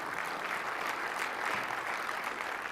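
An audience at a developer conference session claps in a steady, moderate round of applause heard from across a large hall, with no speech over it.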